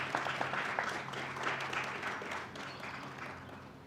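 Audience applause for a new doctoral graduate at a university graduation celebration, a soft, dense patter of clapping that gently tapers off.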